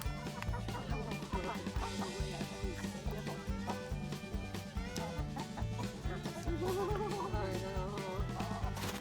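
Chickens clucking on a farmstead, a busy run of short rhythmic clucks throughout, close and fairly steady, with some overlapping bird calls.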